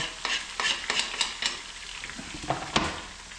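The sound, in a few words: frying in hot oil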